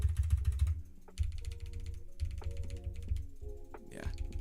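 A newly built custom keyboard being typed on, with clustered clacky keystrokes in uneven bursts close to the microphone, heard alongside low rumbling room noise and some background sound.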